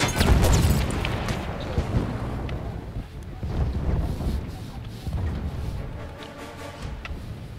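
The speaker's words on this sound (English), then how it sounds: "Heads off, grenade!" Grenade explosion in Battlefield 1 multiplayer operations, a heavy close boom at the start that rolls off into rumbling battlefield noise and wind, with shouting voices nearby.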